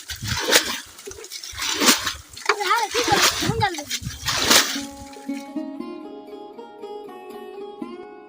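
Water is bailed by bucket out of a netted enclosure in a river: several sloshing splashes and pours, with voices talking over them, followed by a sustained tonal sound at the end.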